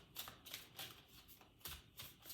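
A deck of tarot cards is shuffled by hand in quiet, close-up bursts of riffling and flicking, several short crisp rustles in uneven rhythm.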